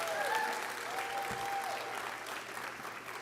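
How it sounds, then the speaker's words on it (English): An audience at a pitch contest for entrepreneurs at a national convention bursts into sustained applause, a dense wash of clapping that stays loud throughout, with a few faint whistles or cheers over it. "Please give them another round of applause,"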